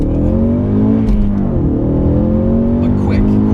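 A 2015 Ford Mustang EcoBoost Performance Pack with a six-speed manual revs its turbocharged four-cylinder engine, a steady loud drone with rising and falling harmonic tones, heard close from inside the cabin with no talk.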